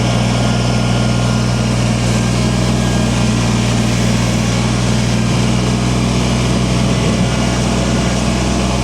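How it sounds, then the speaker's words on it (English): A diesel tractor engine idles and runs in a snowstorm, a loud, steady low drone with a constant hum that holds unchanged throughout, close by and with no talking. "listen to the tractor."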